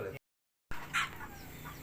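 Serama chickens cluck in a rearing pen, a couple of short clucks nearby after a brief gap of silence, with faint background noise.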